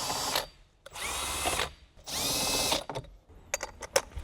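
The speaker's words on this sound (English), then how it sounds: "Just remove it with a 10mm socket. You can use a power tool." A power tool spins off 10mm bolts on a Subaru BRZ during an amplifier kit install, with three loud close whirring bursts, each about half a second long, separated by pauses, followed by light clicks and metallic handling sounds.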